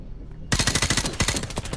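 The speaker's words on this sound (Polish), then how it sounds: "Ale jak chłopy w ogóle na oślep strzela" Rapid automatic gunfire bursts out suddenly in Call of Duty Modern Warfare Remastered, a fast rhythmic string of loud, close shots that lasts over a second after a brief quiet start.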